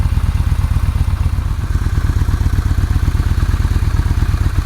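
A Yamaha 950 V-twin motorcycle engine (SCR950, Bolt, V-Star 950) idles steadily and loudly up close during a charging-system check, with an even, rapid pulsing thump and no talking.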